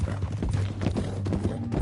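Horse hooves clip-clop steadily at a moderate pace in Red Dead Redemption 2, with a low steady hum running underneath and no talk over the hoofbeats.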